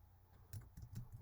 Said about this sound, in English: I'm struggling with my keyboard.